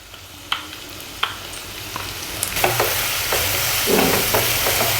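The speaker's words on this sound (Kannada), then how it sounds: "ಹಸಿ ಸ್ಮೆಲ್ ಹೋಗುವವರೆಗೂ ಸ್ವಲ್ಪ ಬೇಯಿಸ್ಕೋಬೇಕು ಇದನ್ನು ಎಣ್ಣೆ ಒಳಗಡೆನೆ" Onion, green chili and garlic fry in oil with a steady, close sizzle, while a spoon gives several sharp scrapes and taps against the pan and the frying grows louder toward the end.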